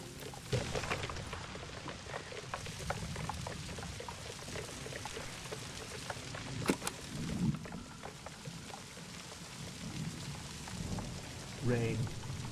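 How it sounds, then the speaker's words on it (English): Steady rain pours and patters across the whole stretch in a video game, dense and fairly loud, with a few sharper drops and a brief low rumble near the end. "Rain."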